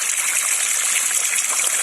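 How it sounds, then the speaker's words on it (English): Irrigation water flows and gushes steadily into plant beds at a propagation and potting nursery, a continuous close hiss of running water with no voices. "So you can see the irrigation water is coming over here."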